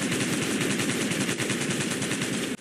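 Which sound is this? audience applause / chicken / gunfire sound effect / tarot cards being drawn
gunfire sound effect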